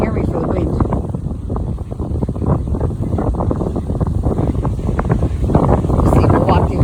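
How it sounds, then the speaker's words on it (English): Strong wind buffeting a microphone by the ocean shore, loud rough gusts rumbling continuously throughout. "Probably can't even hear me for the wind."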